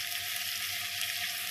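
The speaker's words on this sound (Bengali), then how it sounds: "ছেলের জন্য আলু ভাজা করে নিচ্ছি" Potatoes frying in a pan give off a steady, close crackling sizzle that holds evenly throughout, with no voices.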